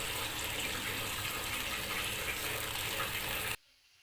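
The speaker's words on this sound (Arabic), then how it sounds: "هبدا اضيف الميه." Water pours from a cup into rice frying in a pot, a loud, steady close-up gush lasting several seconds before stopping abruptly.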